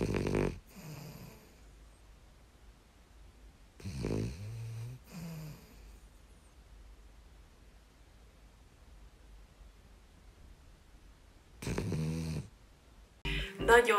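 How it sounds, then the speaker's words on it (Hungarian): A French bulldog snores loudly in bursts, about four rasping snore episodes separated by quiet breathing gaps, close up with no talking. "nagyon hangosan horkol"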